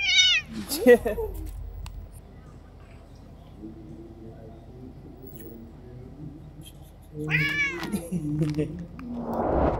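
Cats at Houtong cat village in Taiwan meow in short, close calls near the start and again toward the end, with quiet background murmur between.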